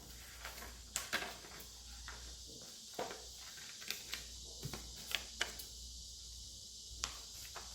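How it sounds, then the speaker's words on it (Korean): Scissors cutting paper along a black border, a quiet series of close, irregular snips and crisp paper rustles over a faint low hum, with no talk. "선생님 하나 잘라볼게요. 이 검은 테두리를"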